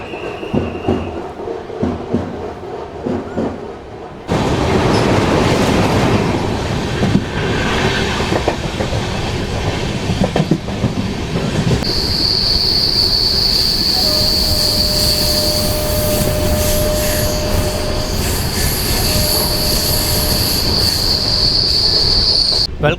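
Narasapur–Tirupati weekly express (train 17428) runs along the tracks after leaving Bhimavaram Town, a loud steady rumble with clattering wheels and long high-pitched wheel squeals, close and continuous after a quieter start.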